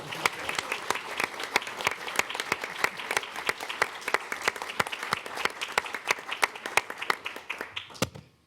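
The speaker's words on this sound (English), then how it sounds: "I think we can start with a birthday round of applause" Birthday round of applause from an audience at a law event honoring an 80th birthday, dense, steady clapping from many hands at moderate distance, sustained for several seconds before cutting off abruptly.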